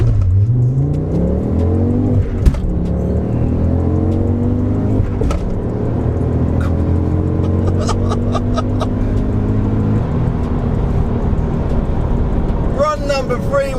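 A quick car accelerates hard on a timed run, the engine climbing in pitch through several gear changes with sharp shifts, a continuous close-up interior roar, with a voice speaking briefly near the end.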